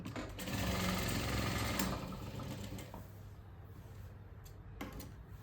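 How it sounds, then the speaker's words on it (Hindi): A sewing machine stitches a salwar, whirring loudly in a run for about two seconds, then settling into quieter mechanical clicks and taps. "ऐसे मशीन चला के ऐसे चलानी है"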